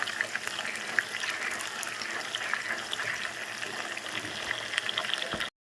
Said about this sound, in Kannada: ಇವೆರಡು ಎಣ್ಣೆ ಒಳಗೆ ಫ್ರೈ ಅಲ್ರಿ.